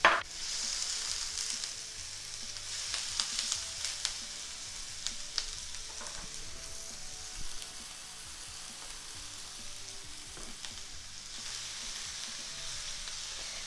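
Half a large diced onion sizzling steadily in a tablespoon of olive oil in a skillet, with a continuous bright hiss and occasional small pops, alone without voices.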